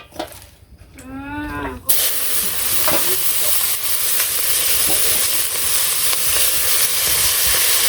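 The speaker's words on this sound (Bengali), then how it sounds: "তো তেলের মধ্যে এখানে শাক দিয়ে দিব" Greens dropped into hot oil in a wok give a sudden loud hiss that settles into a steady, close sizzle, with a few light stirring clicks. A brief voice is heard just before.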